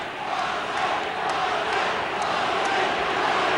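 Rugby league crowd at the Sydney Cricket Ground during a 1986 Kangaroos versus Kiwis test, a steady broad roar of cheering filling the stadium throughout, with no distinct peaks.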